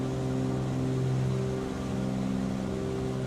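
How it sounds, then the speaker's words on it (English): Steady, droning twin-engine hum of a Cessna 414 in cruise in Microsoft Flight Simulator 2024, a constant low tonal buzz with even loudness throughout and no speech. "starting to get drowsy from the drone of the engine noises in this 414"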